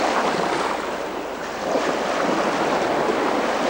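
Sea waves wash onto the Estonian shore, a broad, hissing surge of surf that swells and eases briefly, with wind buffeting the microphone throughout.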